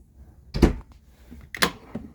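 A small drawer in a 2016 Dutchmen Rubicon 2600 RV, giving two short close wooden thumps about a second apart as it slides and stops, with no talking.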